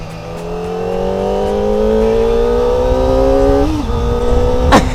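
A Kawasaki ZX25R four-cylinder motorcycle revving in third gear, its high-pitched engine note climbing steadily and loudly before a brief dip as the throttle eases, close by, with no talk.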